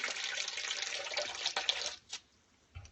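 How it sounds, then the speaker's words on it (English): Half a cup of water pours steadily into oatmeal for about two seconds, then stops, followed by a couple of small clinks and taps nearby. "Just add a half a cup of water"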